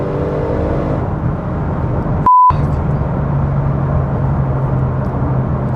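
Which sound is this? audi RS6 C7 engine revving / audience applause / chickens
audi RS6 C7 engine revving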